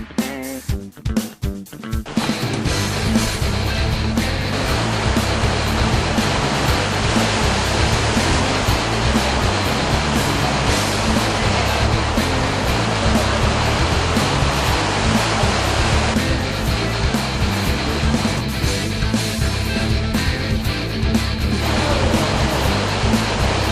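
Rushing water of the Congo River Rapids ride at Busch Gardens, a loud continuous roar of churning whitewater that stays steady and close throughout after a brief rattling start.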